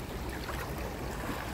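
A strong river current rushes past a riverbank, giving a steady, dense close-up wash of flowing water with no voices.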